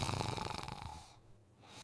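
A sleeping woman snores in a steady, rhythmic run of rough, pulsing breaths that fade into a brief quiet before the next inhale starts.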